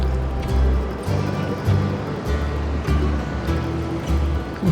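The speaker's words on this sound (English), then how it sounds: "there's a fair bit of swell here today" Sea swell surges and washes against the harbour walls at Buckie, a continuous heavy roar of churning water with rhythmic low thumps of waves arriving close by.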